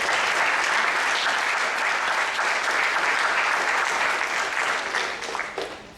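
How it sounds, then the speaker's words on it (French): Warm applause from an audience at a school gala for performers, a dense steady clapping that stays full for several seconds and then tapers off toward the end. "Je pense qu'on peut les applaudir une dernière fois."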